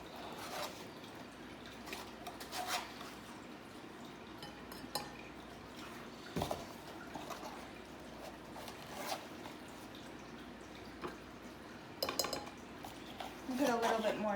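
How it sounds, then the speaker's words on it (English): Baking soda spooned into a vase for a glitter explosion experiment, heard as light metallic clinks and scrapes of a spoon against the container, scattered and fairly close, with someone talking at times. "you're going to put 2 to 3 tablespoons of baking soda, which is this, into your"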